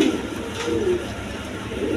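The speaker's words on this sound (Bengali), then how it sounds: "এখানে এক পেয়ার বিউটি কবুতর আছে" A pair of beauty breed pigeons coo softly, close by and alone over a low room hum.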